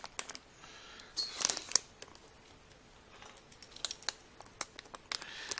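Cellophane wrap being peeled and torn off a sealed, glued game box gives faint, sparse crinkles and crackling clicks that come in short bursts close by, with no talking.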